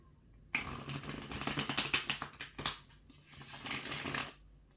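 Tarot cards that stick together being shuffled up close, a burst of rapid riffling flutters, a brief pause, then another shorter shuffle.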